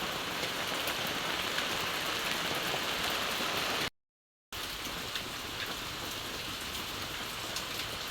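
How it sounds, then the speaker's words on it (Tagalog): Heavy rain pours steadily in a dense, constant hiss, broken by a brief half-second of silence before the downpour resumes. "Malakas ang ulan"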